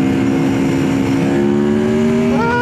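Aprilia RSV4 RF sportbike with a quick shifter accelerating hard, a loud, close engine note rising steadily in pitch, then jumping as it shifts near the end.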